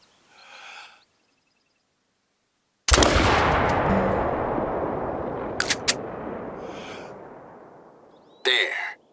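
A shotgun fires a single loud blast in The Hunter: Call of the Wild, its boom rolling away in a long echoing tail, with soft breaths before and a few faint clicks after.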